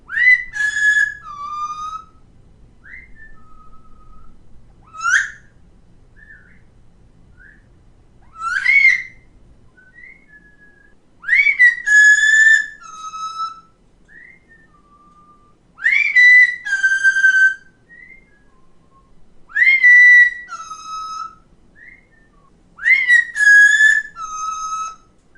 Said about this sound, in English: that's my bird whistling right back